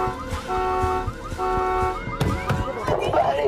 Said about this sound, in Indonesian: Tiba-tiba alarm mobilnya itu berbunyi sendiri.